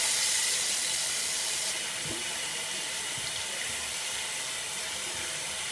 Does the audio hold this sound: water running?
yes